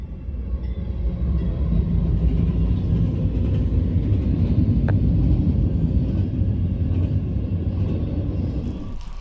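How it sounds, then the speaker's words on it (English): A Norfolk Southern intermodal freight train led by a C6M locomotive with a trailing unit rolls past, a heavy low rumble and steady rail roar that swells and holds for several seconds, with a faint metallic squeal midway. "my dad managed to catch a Norfolk Southern Intermodal with a C6M leading and Jijivo trailing."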